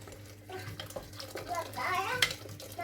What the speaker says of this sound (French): je vais rajouter mon eau, comme je vous ai dit, de l'eau chaude